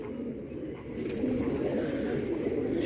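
Pigeons cooing close by, a continuous low, throaty murmur from several birds over a dense, steady background.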